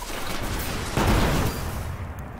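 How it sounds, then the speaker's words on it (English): Dense, continuous battle noise from the video game Destiny, with overlapping explosions and gunfire forming a loud, rumbling wash and a heavier boom near the middle. "there's so many explosions around me"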